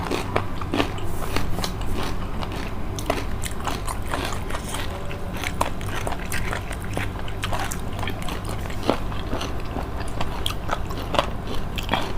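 Close, wet chewing of squid with crisp crunchy bites repeating steadily, recorded near the mouth with a faint background hum.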